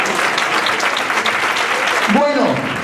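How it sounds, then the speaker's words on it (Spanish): Audience applause fills a comedy dinner-show hall, steady dense clapping from a crowd throughout, with a brief voice breaking through near the end. "se aplaude uno, aplauden todos"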